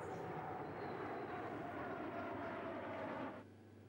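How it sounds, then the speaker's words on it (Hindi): Air force aircraft fly past in formation at India's 2019 Republic Day parade, a loud broad engine roar that holds steady, then drops off sharply near the end. "3 अन्य विमानों ने नेत्र और ग्लोब फॉर्मेशन का प्रदर्शन किया है।"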